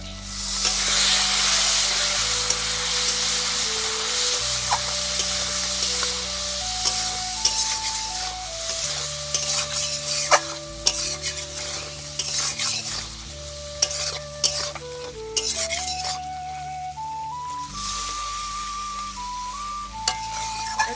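Spice paste for Bengali fish head curry sizzles and hisses in a pan as a splash of water goes in, with steady frying noise, scattered stirring clicks and scrapes, and soft background music underneath.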